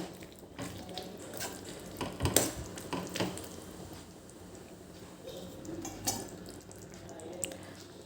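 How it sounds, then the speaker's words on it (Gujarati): Chola (black-eyed pea) gravy curry being stirred in a pan, with soft scraping and clinks of a spoon against the metal over a low simmering background, a few sharper knocks standing out. "એક વખત આને હલાવી લેવાનું છે"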